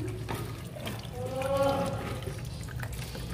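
Coolant drains out of a motorcycle during a coolant change, a steady liquid pour and trickle running for a few seconds and swelling briefly in the middle, with people talking nearby.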